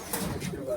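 Pigeons in a high-flyer pigeon shop in Khulna give low, soft coos close by through a short moment, with faint shop bustle around them.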